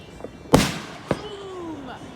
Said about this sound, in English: That was fireworks.